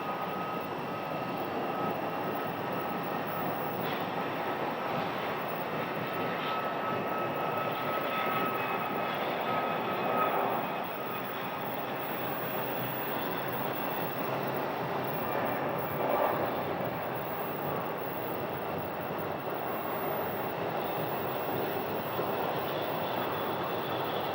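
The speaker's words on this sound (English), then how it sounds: "Clear takeoff 26 Southwest. So they need a longer runway. And they're off." Southwest jet airliner taking off from runway 26 at Phoenix Sky Harbor, a steady distant roar of jet engines that holds at a moderate level throughout, with no talk.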